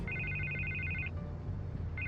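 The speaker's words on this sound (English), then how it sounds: "I can't get the phone to stop ringing." A telephone rings in Batman The Telltale Series, a bright electronic ring pulsing rapidly for about a second, pausing, then starting again over a low background rumble.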